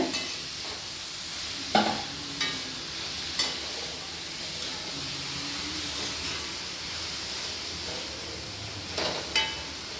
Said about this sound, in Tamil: இந்த நெய்யிலையே நான் இந்த பீட்ரூட்டை லைட்டாக வதக்க போகிறேன்